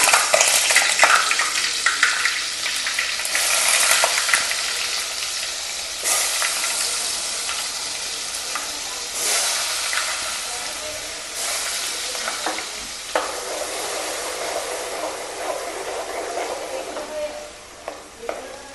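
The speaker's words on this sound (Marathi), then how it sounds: "स्लो गॅस ठेवलेली आहे आपण आता आणि याच्यामध्ये बटर घातलेलं आहे" Butter melting into hot oil over a low flame in a pan, a loud bright hiss of frying that swells and eases, with occasional light clinks and scrapes of a utensil.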